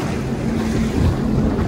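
A jet ski bounces over choppy water, its engine drone buried in heavy wind buffeting and splashing spray, loud and close throughout a brief burst.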